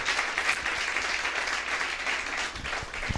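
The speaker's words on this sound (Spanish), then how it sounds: "deberías de darle un poderoso aplauso al Eterno" A church congregation applauds in a broad, continuous wash of many hands clapping together, filling the room at moderate volume, with a few low thumps near the end.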